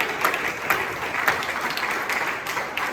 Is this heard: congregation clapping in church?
yes